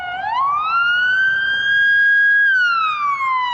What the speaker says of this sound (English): An ambulance was quickly on the scene, but Sheremet never had a chance.